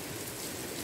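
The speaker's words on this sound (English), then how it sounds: "என்ன இவ்வளோ heavy rain இருந்துச்சு, சடனாக இவ்வளோ ஹெவி ஆயிடுச்சு." Heavy rain falls on a rainy morning in the Aramco compound at Ras Tanura, Saudi Arabia, a steady dense hiss of drops on surfaces filling the short clip at moderate level, with no voices.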